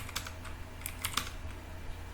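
A short command typed on a computer keyboard, a quick, light run of key clicks with uneven spacing, close and quiet with no one speaking.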